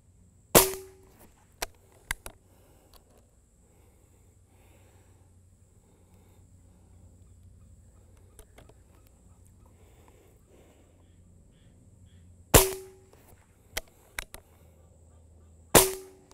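Benjamin Maximus .177 air rifle shots: three sharp cracks spread over several seconds, each followed by fainter pellet clicks or impacts, with quiet ambient background in between.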